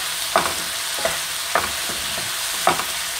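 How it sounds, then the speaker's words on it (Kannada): Onions frying in a pan for masala dosa filling, a steady sizzle broken by several sharp scraping stirs of a spatula, close and moderately loud with no talking. "ನೋಡಿ, ಈರುಳ್ಳಿ ಚೆನ್ನಾಗಿ ಫ್ರೈ ಆಗ್ತಾ ಇದೆ."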